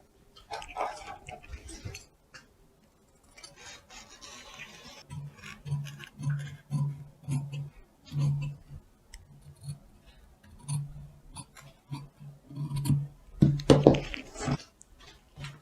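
Scissors cutting a paper sewing pattern for a blouse, quiet snipping and rustling of paper in short irregular bursts, close and soft.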